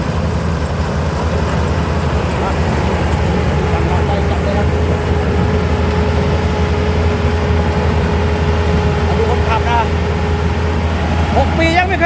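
A Kubota combine harvester engine runs during a rice harvest, a loud, steady drone with a constant hum and a few brief mechanical rattles near the end, close to the machine.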